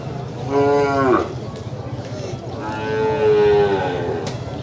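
A large water buffalo at a livestock market in Moises Padilla, Negros, lets out two long, deep lowing calls, close by, with murmuring background noise between them.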